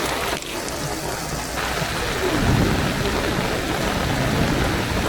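Heavy rain pours onto a city street during a massive storm in China, a dense, loud, continuous hiss with a deeper swelling rumble partway through, close and unbroken.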